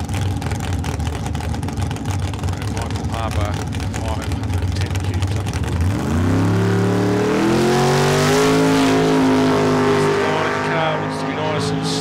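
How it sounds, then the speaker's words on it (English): A drag racing car launches and accelerates hard down the strip at Calder Park's Friday night drags. The roar is loud and climbs steadily in pitch after a rough idle-like rumble, and a backfire at half track is not clearly separable. "Backfire from the car at half track."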